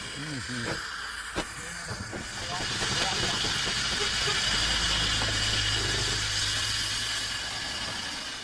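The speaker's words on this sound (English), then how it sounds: "Fred's engine is a 4-horsepower model, built to pull around 15 tons. But right now, it's struggling to pull 2." A 4-horsepower steam traction engine strains to haul a load, with loud hissing steam and chuffing building and holding steady nearby, while people talk at the start.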